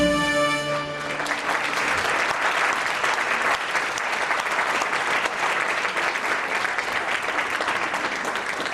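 Audience applause at a live concert by a tribute band, a dense, steady wall of clapping that rises as a final sustained note fades and then carries on unbroken.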